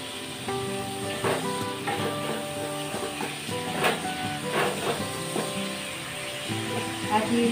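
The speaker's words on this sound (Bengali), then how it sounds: "দিয়ে ভালো করে একটু কষিয়ে নেবো" Tomatoes fry with salt, green chillies and ginger in a pan, giving a continuous hissing sizzle with occasional stirring clatter, while a person talks over it.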